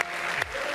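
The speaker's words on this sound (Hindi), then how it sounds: "अब ताली बजाओ।" An audience claps steadily at a comedy preacher's show, a dense burst of applause lasting under a second with a brief louder swell near the end.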